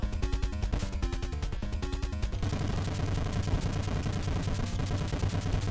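Rapid 8-bit gunfire rattles through the NES game Metal Gear, a dense stream of repeated chiptune shot blips layered over looping game music, loud and continuous without pause.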